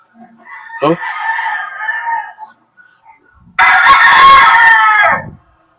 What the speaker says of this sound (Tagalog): Yan mga boss, napakagwapong mga manok.